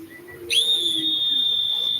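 A professional referee's whistle blasts loudly and steadily for about a second and a half after a brief quieter lead-in, piercing and sustained with no talk over it.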